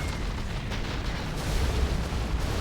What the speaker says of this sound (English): There's artillery coming in now